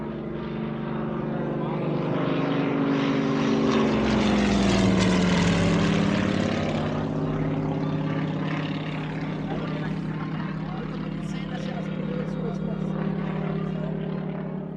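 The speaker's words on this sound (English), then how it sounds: "suddenly, an enemy reconnaissance plane flies over our camp." A propeller plane drones overhead, its engine pitch sweeping down as it passes, loud and steady throughout with a faint voice underneath.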